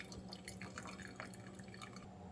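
Coffee drips and trickles through a pour-over filter, a soft, close patter of small droplets falling continuously into liquid with no voices over it.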